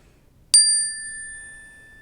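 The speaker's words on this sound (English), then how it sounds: "I'll just hit the bell" A small bell in a classroom is struck once, a bright ding that rings on with a long, slowly fading sustained tone in a quiet room.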